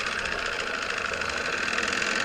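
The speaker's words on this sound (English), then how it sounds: "Comrade Sister Emily, start up engines." Aircraft engines starting up as a sound effect in a Biggles radio play, a steady loud rumbling drone with a knocking, idling texture that holds evenly throughout without talk.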